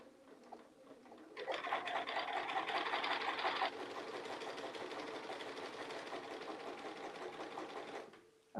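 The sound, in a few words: sewing machine stitching a quilt panel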